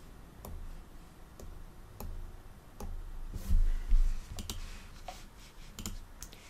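Computer mouse buttons click one at a time in an irregular run, sharp faint ticks spaced about half a second apart over a quiet background with a brief low bump near the middle.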